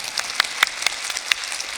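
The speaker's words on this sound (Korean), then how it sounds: "박수 하려거든 제대로 해야지." Applause from a church congregation, heard as a short stretch of scattered, fairly close claps.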